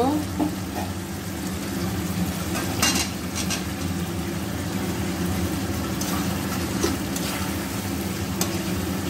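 Potatoes go into a pan of sizzling, oil-separated spiced gravy for Kashmiri aloo dum, with a steady close frying hiss, occasional clinks and stirring.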